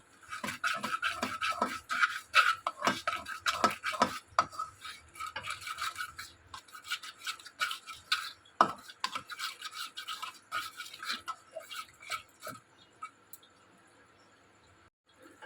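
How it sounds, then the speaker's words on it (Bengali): Ginger garlic paste stirred in a pan with spices and yogurt, heard as close, rapid rhythmic scraping strokes that thin out and fade toward the end. "আর এইখানে আমি আদা রসুন বাটাটা রেখেছিলাম সেটা দিয়ে দেবো। দেওয়ার পরে এটাকে নাড়তে হবে।"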